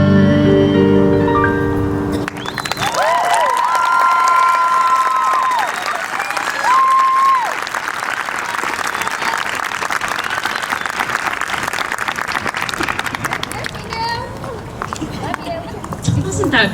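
A high school audience at an outdoor jazz concert bursts into sustained applause with whoops and cheers as the last musical notes fade, the clapping continuing strongly until the end.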